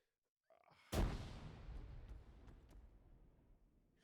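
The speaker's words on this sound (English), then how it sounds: "Buddy threw a grenade." A grenade explodes in Arma 3, a single sharp loud blast followed by a long rumbling decay that fades over several seconds, with faint shots echoing in the tail.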